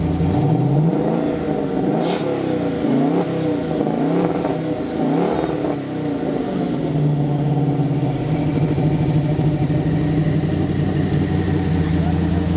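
An LS-engined car on its first drive with a new setup revs hard through several rising-and-falling acceleration pulls, then settles into a steady droning cruise, loud and close from inside the cabin.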